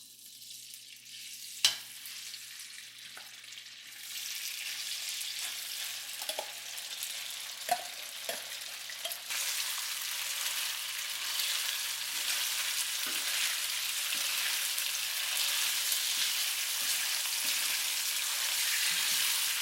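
Pork pieces drop into hot oil in a pan for a curry meat sauce and set off a loud, continuous close sizzle with a few small pops and clinks along the way.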